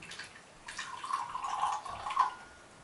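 Hot water at about 70 degrees is poured into small teapots, a faint, close trickle and splash that swells and fades over a few seconds.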